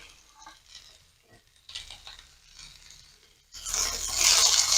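Onion sautéing in a pan, with finely chopped tomato and cashews stirred in for a paneer kofta curry, gives faint scraping and stirring, then a loud sizzle bursts up as the ingredients hit the hot oil.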